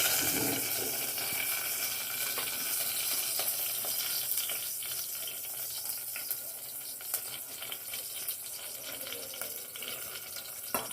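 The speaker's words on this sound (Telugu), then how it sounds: "ఉల్లిపాయలు ఎర్రగా అయ్యేదాకా వేయించుకోవాలి" Onions fry in oil with bay leaf inside a pressure cooker, a steady bright hiss and crackle that holds evenly throughout, close and continuous, with occasional faint stirring taps and no voices.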